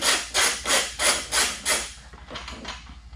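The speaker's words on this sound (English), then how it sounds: "you're going to grab your 12 millimeter socket again, and you're going to undo this center back bolt for the rack" Hand ratchet with a 12 mm socket loosening the center rear rack nut on a Genuine Buddy scooter, four or five loud rasping strokes in an even rhythm, then softer, quicker turning as the nut frees up.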